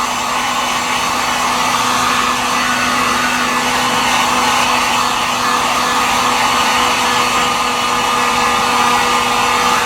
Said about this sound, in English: we take the heat gun and heat this up a little bit